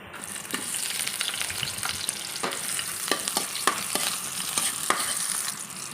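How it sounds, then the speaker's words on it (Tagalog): Garlic and onion sautéing in hot oil in a pan, a continuous bright sizzle with repeated spatula scrapes and taps growing more frequent toward the end, no talking. "isasabay ko na itong igisa yung garlic and onion"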